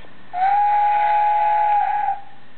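DX Travelion Magiranger toy train giving off an electronic steam-whistle tone with hiss when its front is lowered, one loud sustained blast lasting under two seconds, heard alone.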